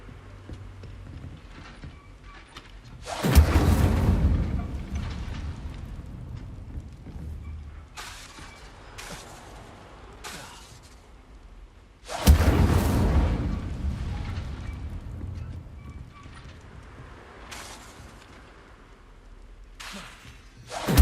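An Incendio fire spell cast twice in the Hogwarts Legacy video game, each a sudden loud fiery burst that fades into crackling, with quieter clattering between the blasts.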